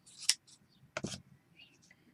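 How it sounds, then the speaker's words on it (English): Scissors snip through card paper for a handmade butterfly birthday card: a couple of quick, close cuts with soft rustling and faint murmured speech nearby. "I think I'll maybe cut this down a little bit."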